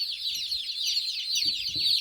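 Baby turkey poults delivered as a brood, peeping steadily and rapidly in a dense, continuous chorus of high chirps, close by, with faint low handling bumps beneath and no talking.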